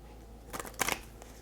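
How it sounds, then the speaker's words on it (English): Tarot card deck being shuffled by hand, a Moonology Manifestation oracle deck; a few quiet riffling bursts of cards close together, faint and alone. "So let me finish the last shuffle here."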